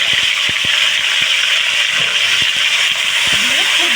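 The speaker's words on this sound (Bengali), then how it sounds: "দিয়ে দেব পেঁয়াজ ও টমেটো বাটা," Onion and tomato paste hits hot oil in a kitchen pan, raising a loud, unbroken sizzling hiss that fills the whole stretch. Occasional dull knocks sound underneath, and nobody speaks.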